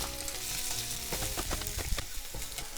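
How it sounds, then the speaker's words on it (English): Half-seared bacon and cut-up onion frying over medium heat, a loud continuous sizzle and crackle close up with stirring clatter, no voices. "once the bacon is half seared like this, I'm gonna turn the heat to medium, then put in the cut up onion"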